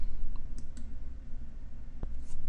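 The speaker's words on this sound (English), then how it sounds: "Let's click on a database now." A few light mouse clicks on a computer while selecting a database in phpMyAdmin, small sharp ticks spread over a couple of seconds against a steady low background hum.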